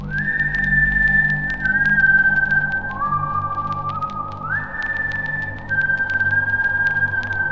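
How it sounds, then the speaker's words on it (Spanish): A slow, sad, out-of-tune melody whistled by a single person, with long sustained notes that shift pitch gradually, loud and close over a low background hum. "de repente escuché el silbido"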